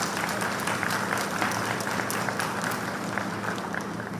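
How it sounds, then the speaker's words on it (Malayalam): An audience at a public political speech in Kerala breaks into sustained applause, a dense, even wash of many hands clapping that holds steady for several seconds with no voices on top. "ഓ, അപ്പൊ നിങ്ങൾ കൈയടിക്കാൻ അറിയാം."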